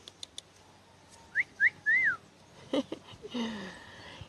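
Three short rising whistles in a row, then a longer wavering whistle, fairly close, calling a dog from far away, with a few thumps and rustles afterward.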